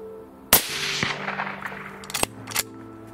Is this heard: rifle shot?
yes